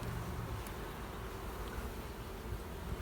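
A steady, dense hum of honey bees buzzing over a brood frame with newly emerging bees, continuous and fairly close with no talking.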